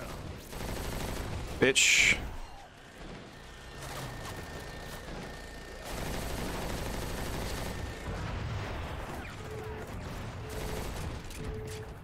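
Gunfire in the video game Crackdown: a loud burst of rapid shots early, then quieter game action with a sustained rumble and faint beeps, and a man swears over it.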